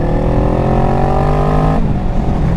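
A 650cc motorcycle engine revs hard and loud up close, climbing steadily in pitch before dropping sharply as it shifts gear near the end.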